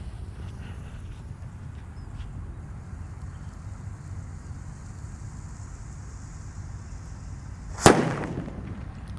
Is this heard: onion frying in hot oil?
no